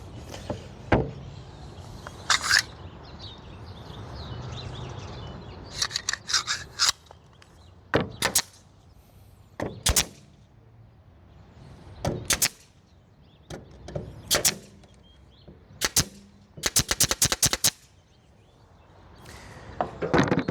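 A nail gun clacks without firing nails, giving sharp separate clicks and short bursts with quiet gaps and some faint rubbing between them.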